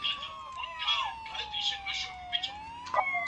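A police-style emergency siren wails in a roleplay video game, its pitch sweeping slowly up and down at moderate volume beneath intermittent chatter and short bursts of other game sounds.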